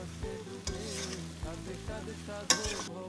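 Raw jackfruit sizzles with ginger in a hot pan while a spoon stirs it, giving rhythmic scraping strokes and clinks over a close, continuous frying hiss.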